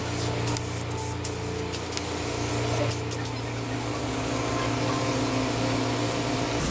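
A Hydrafacial machine runs steadily through a peel application pass, a constant loud mechanical hum and hiss with a low tonal drone, with faint brief clicks near the start and no talking.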